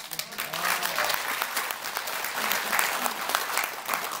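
A roomful of people clapping steadily, a full burst of applause with a faint murmur of voices underneath.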